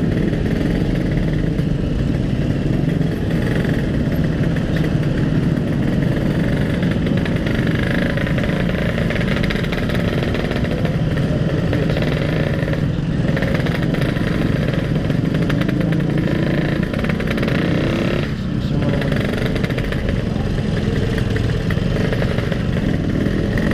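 A Yamaha RX King motorcycle engine roars continuously while riding, a loud, rough two-stroke drone with wind rush that stays close and steady throughout, with no clear talk over it.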